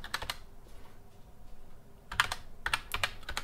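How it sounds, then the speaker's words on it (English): Fingers type a website address on a computer keyboard in quick bursts of crisp key clicks, close up, separated by a short pause, with no talking. "you can actually type in the top here"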